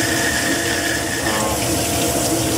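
Running water rinsing fluorescent penetrant out of a Glock G27 10mm barrel damaged in a kaboom, a steady hissing spray with a faint mechanical hum, constant and close throughout.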